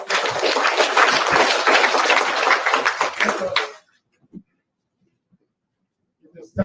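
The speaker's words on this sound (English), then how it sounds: "Brothers and sisters, give yourself a round of applause." Dense applause from a gathered audience at an anti-discrimination event, loud and sustained for a few seconds before cutting off abruptly into near silence, with faint sounds returning at the end.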